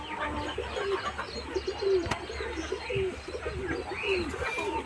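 Soft, repeated cooing of fancy breeding pigeons in a loft, several birds calling over one another in a steady low murmur, with faint chirps and a brief tap in the background.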